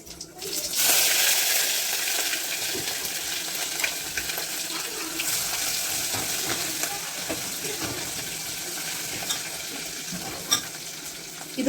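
Mustard seeds, cumin and garlic fry in hot oil with a steady, loud crackling sizzle, broken by scraping stirs and faint watery splashes, continuing throughout with no talking.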